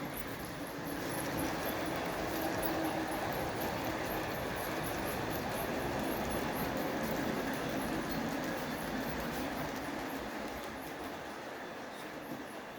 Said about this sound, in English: the second track is actually done all the way up to that switch there that the engine's just about to pass through